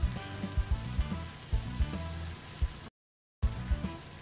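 Butter and sugar sizzle in a very hot pan with the heat turned off, a steady frying hiss broken by regular scraping knocks of stirring and one brief dropout.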